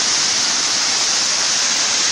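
A waterfall at Cachoeira Itaci in Paraíso do Norte, Mato Grosso, crashes down onto rocks in a loud, constant, dense roar of water, close and unbroken throughout.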